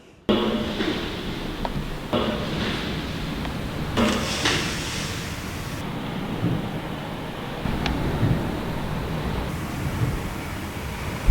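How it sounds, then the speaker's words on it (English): Steady ocean surf and wind wash near a historic quarantine station by the sea, a continuous broadband roar with a few faint knocks and shifts, no voices. "I think it's just the ocean"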